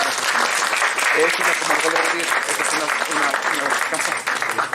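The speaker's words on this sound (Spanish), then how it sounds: "¡Fuerte el aplauso!" An audience at a heritage day event at a historic house claps in a dense, sustained round of applause, with voices mixed in beneath the clapping.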